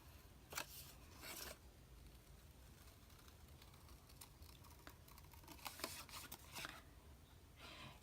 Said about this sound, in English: I'm going to cut this out. I'm going to use my cutter bee scissors.